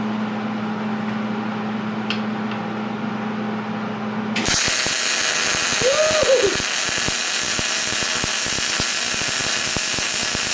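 A Miller 211 MIG welder running a bead with 220 MIG gas. A quiet hum gives way to a loud, steady, crackling buzz that continues close up to the end.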